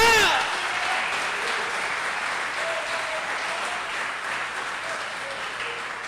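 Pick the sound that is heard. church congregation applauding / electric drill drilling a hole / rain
church congregation applauding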